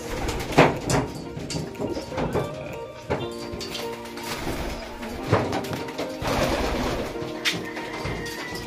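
A stock pigeon coos in soft repeated phrases close by, mixed with scattered knocks and rustling from the loft around it.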